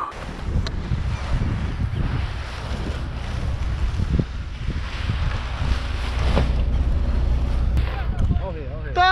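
Strong wind roars steadily across the microphone outdoors, heavy broadband rumble throughout, with voices speaking over it and brief whistling tones near the end.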